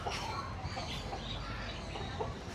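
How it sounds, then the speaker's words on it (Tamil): A caged Silkie chicken clucks softly at a bird park, faint scattered clucks over a dense background of other birds and ambient noise. "இது வந்து காட்டுக்கோழி மாரி இருக்குது, ஆனால் இது வந்து கூண்டு கோழி. சில்கி"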